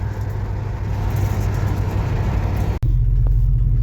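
A 1976 Chevelle Malibu with a newly installed transmission cruising at 55 mph in third gear. A steady, loud cabin drone of engine and road rumble runs throughout, with one sharp momentary dropout near the end.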